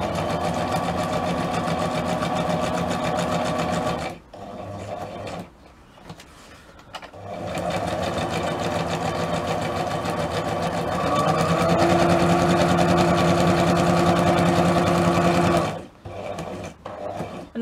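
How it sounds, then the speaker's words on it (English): A sewing machine runs steadily, stitching close to the edge of fabric, with a continuous mechanical whir that pauses briefly twice before resuming. "You can use your sewing machine."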